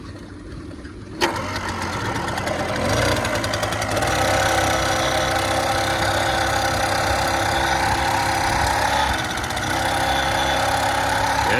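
Small gas motor on a bike-based trike, started with a choke, fires with a sharp pop after a second of quiet, then settles into a loud, steady, uneven idle with a slight knocking rhythm that rises and holds as it warms up.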